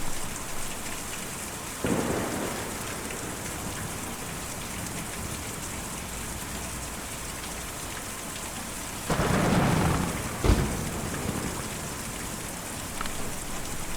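Steady heavy rain pours throughout in Kentucky Route Zero, broken by two rumbling thunderclaps, the second with a sharp crack.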